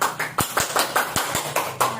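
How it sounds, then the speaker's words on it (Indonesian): A chemistry class claps for a student, a sparse handful of distinct claps in an uneven rhythm, close and fairly quiet, with faint voices between them. "tepuk tangan untuk Afi."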